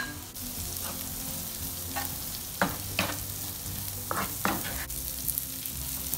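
Dried beef sautéing with garlic in a hot pan: a continuous close sizzle broken by several bursts of louder crackling and stirring scrapes.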